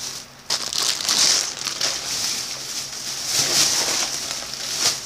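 Crinkly plastic rustling, close and fairly loud, in two bursts with a brief pause between, no voices.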